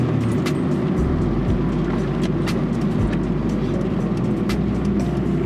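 A G6 Toyota Corolla driving over a rough stretch of road, with steady loud engine and tyre rumble and occasional small bumps and knocks from the suspension, heard from inside the car.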